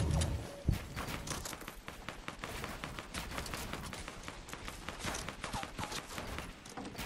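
An enemy player's gunfire in Fortnite Battle Royale, with a sharp close shot followed by a steady run of rapid, moderately loud reports, mixed with patters that could be footsteps.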